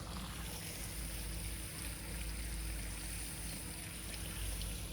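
Filter return water from a 6500-gallon koi pond pours back into the pond as a continuous, dense rushing flow with a steady low hum underneath, holding level throughout.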